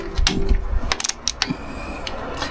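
Torque wrench clicking as bolts on a Cummins diesel pickup are tightened to 92 foot-pounds in a crisscross pattern: a few sharp, close ratcheting clicks and mechanical clunks over a low hum, no talking.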